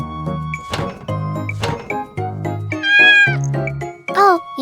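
A pet cat meows repeatedly, several close, clear calls in a row with rising and falling pitch, with small knocks between them.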